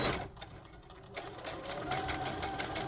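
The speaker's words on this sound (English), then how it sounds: "Make sure you're back stitching at the beginning and the end." A sewing machine runs close up, stitching a fabric seam on a boxy bag. A brief pause in the steady mechanical whir is followed by the motor starting again and running at a constant hum to the end.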